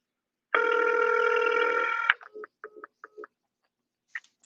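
Telephone ringing on a cold call, one long electronic ring burst followed by a few short chirping pulses, close and clear with no talk.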